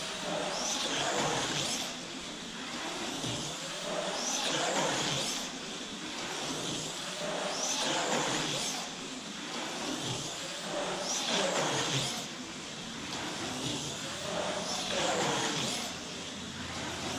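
A race car lapping during a 20-lap driver-training race, engine note rising and falling in repeated surges roughly every few seconds, steady and fairly loud, with occasional voices faintly mixed in.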